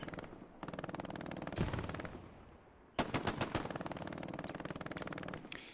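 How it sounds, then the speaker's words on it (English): Bursts of MG42 machine gun fire in the World War II game Hell Let Loose, rapid rattling volleys from fairly close, one long burst, a short pause, then a sharper sustained stream of shots, no voices. "MG42 action still in the back from Xeon"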